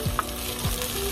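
Onions sautéing and caramelizing in a pan give off a steady, close sizzle, with a few faint clicks of stirring over the short stretch.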